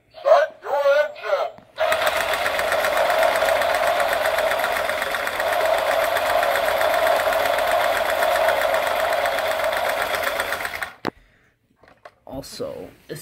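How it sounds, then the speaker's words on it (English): A small model car engine starts and runs with a loud, fast buzzing rattle for about nine seconds before cutting out, with voices talking just before and after. "Gentlemen, start your engine!"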